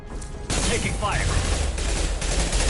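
Rapid bursts of gunfire in a Mass Effect 2 firefight, loud and continuous after a brief quieter opening, with battle noise throughout.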